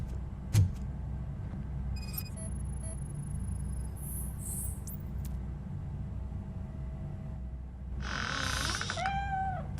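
A cat meows in RoboCop: Rogue City: a faint, short mew late on, with a thump near the start and a steady hum and insect-like chirps throughout.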